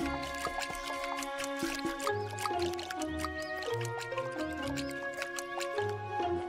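Watering carrots in the farming game Summer in Mara: soft dripping, splashing water sounds play steadily over gentle, melodic game music.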